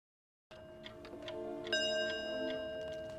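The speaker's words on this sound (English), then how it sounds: "Did you hear that? The clock struck 13." A clock in a TV show ticks steadily, then a resonant chime strikes and rings on with sustained, shimmering tones, fairly faint and with no voices.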